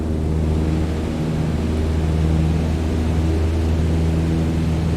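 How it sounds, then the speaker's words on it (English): A simulated aircraft engine drones steadily at full throttle during a climb in Flight Simulator 2020, a constant loud hum with no talking. "go full throttle and start climbing"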